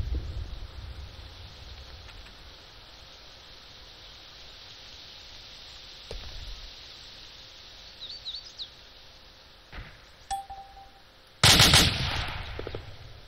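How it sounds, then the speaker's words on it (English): Gunfire in the Arma 2 combat game: a quieter burst of shots around the middle, then a loud, close burst near the end over steady background hiss. "I'm just shooting in the window."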